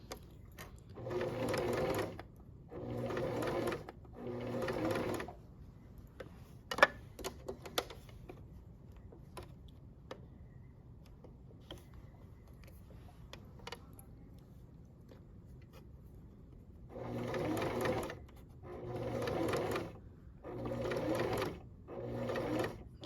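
A sewing machine stitching a steep curved seam runs in several short, even bursts of rapid mechanical whirring, pausing in between with quiet handling clicks, then resumes with another run of bursts.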